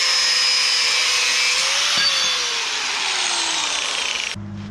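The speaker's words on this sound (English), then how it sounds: "So I'll get the grinder out." An angle grinder cuts through a car's steel suspension coil spring on an XG ute, giving a loud, continuous high-pitched abrasive whine whose motor tone slowly sags under load before stopping abruptly.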